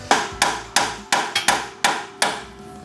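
A small impact wrench hammers at stuck bolts on an old off-grid truck under restoration: seven sharp, close, percussive bursts in an irregular rhythm, each ringing briefly before the next.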